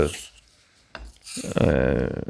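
A Japanese straight razor blade is drawn across a Japanese whetstone, giving a short rasping stroke followed by a longer, louder scraping pass, close and with no voices.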